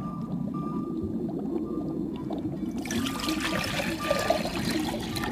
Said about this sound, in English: Now, I'm going to put the water that we displaced earlier on the other side.